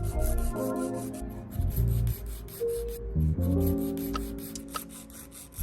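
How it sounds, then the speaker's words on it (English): Gel extension nail being trimmed and filed into a medium coffin shape with a nail file during a DIY Gel X manicure, giving close, steady rasping strokes in quick repeated passes, with faint background music underneath. "I'm trimming and filing the nail to a medium coffin shape."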